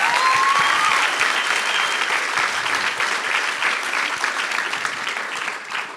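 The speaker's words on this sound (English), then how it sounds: "Can we give them another round of applause?" Steady, hearty clapping from an audience at a national grand final for student pitching teams, loud at first and gradually thinning out toward the end.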